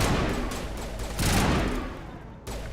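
Sustained bursts of gunfire from a gun in the video game Mass Effect, a dense, loud volley that swells in the middle and briefly cuts out near the end.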